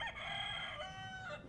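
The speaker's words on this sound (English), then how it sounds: "you've got a rooster as your buzzer" A single rooster crows loudly and clearly as a game-show buzzer sound effect, one long drawn-out cock-a-doodle-doo on its own.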